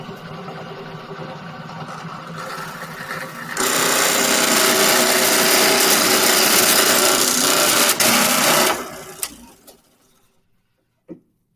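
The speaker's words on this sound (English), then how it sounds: "I can shut the machine off, and then I'll end up with a perfectly drilled hole that goes all the way through." Drill press boring a hole down to its depth stop: a loud steady motor whine and cutting roar for several seconds, then the machine spins down to silence, followed by a couple of sharp knocks.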